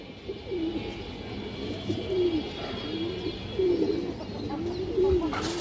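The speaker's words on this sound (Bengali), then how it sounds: "দেখেন একবারে ফুল ফ্রেশ একটা মুসলদম নর কবুতর দর্শক।" A male Musoldom pigeon coos close by, giving about five rolling coos at a steady rhythm over faint background noise.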